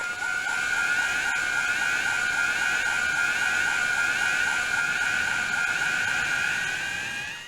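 Skull Kid's eerie call bringing down the moon at the clock tower in a Zelda game, a loud sustained wavering tone with pulsing overtones, steady and continuous, no voices.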